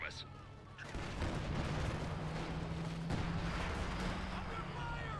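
Distant, muffled gunfire and booming shots in the Company of Heroes 2 video game, aimed at a vehicle, roll steadily in the background of a forest battle at low volume.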